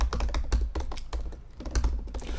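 Typing on a computer keyboard while setting up a new Android Studio project, a fast close run of light clicky keystrokes with brief pauses, no voices.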